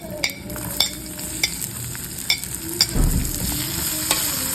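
Whole spices hit hot oil and fry while being stirred, producing a close crackling sizzle with sharp, regular spoon-against-pan clicks and a brief louder burst of frying.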